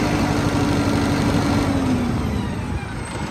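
A Deutz-Fahr Agrolux 80 Profiline tractor with a CRDI diesel engine runs steadily at idle, a loud, even low rumble with a faint tonal hum that dips slightly near the end, no voices.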